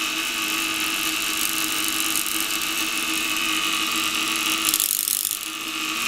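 An Elektronik Kaltetechnic und Hochspannung violet ray high-voltage machine runs with a continuous harsh electrical buzz and hum, holding steady before shifting slightly near the end, with no voices.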